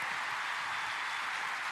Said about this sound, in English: The crowd loving it.